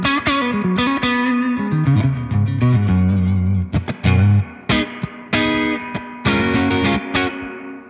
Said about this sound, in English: I think it's a great sounding spring reverb pedal